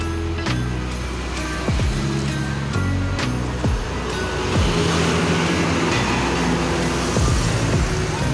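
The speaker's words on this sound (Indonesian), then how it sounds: "Terlihat bus pariwisata melintas." A tour bus sweeps past on a busy road, its loud engine roar and tyre rush rising and fading, with several other vehicles whooshing by close.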